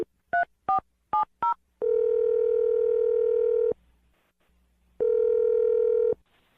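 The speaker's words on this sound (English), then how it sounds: "I'm going to dial the phone number right now" A telephone being used to call a number gives four short keypad tones in quick succession, then a long steady dial tone, a pause, and a second shorter tone, clear and close with no voices.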